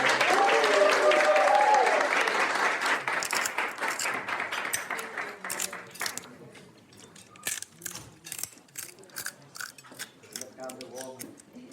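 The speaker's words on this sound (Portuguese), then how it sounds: "uma salva de palmas" Festive round of applause at a birthday celebration, loud and dense at first, then thinning into scattered claps as it fades, with voices faintly under it.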